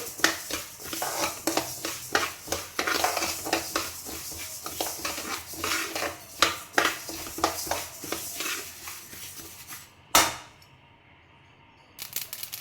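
Mustard seeds and coriander dry-roasting in a pan, with rapid crackling pops and scraping stirring clatter throughout, then one sharp clang and a brief quiet before the crackle resumes.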